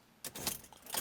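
Honda Civic car keys jangle and clink close up as the key goes into the ignition, a short burst of metallic rattles in a quiet cabin.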